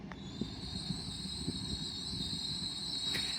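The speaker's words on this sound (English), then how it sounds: "Arriving in now is your 1250 Hull Trains Paragon service from London King's Cross" A 10-car Hull Trains Class 802 Paragon arriving at Grantham station on the East Coast Main Line, with a steady high whine, faint wheel clicks and a low rumble, alone and moderately near.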